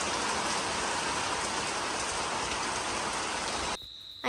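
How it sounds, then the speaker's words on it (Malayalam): Heavy rain pours steadily outside in hilly, misty country, a dense even hiss that runs unbroken and then cuts off abruptly near the end. "മഴ മാത്രമല്ല അപ്പുറത്തൊക്കെ നന്നായിട്ട് കോട വന്ന് കവർ ചെയ്തിരിക്കുകയാണ്"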